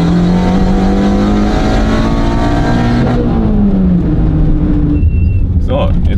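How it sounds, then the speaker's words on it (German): A front-wheel-drive car with a K03 turbo accelerates hard from a standstill, the engine rising steadily in pitch under load, loud and close. An upshift near the third second drops the tone, with wind and road roar filling the background. "Muss mal ein bisschen mit Gas losfahren und dann reiße ich ihn auch wieder durch."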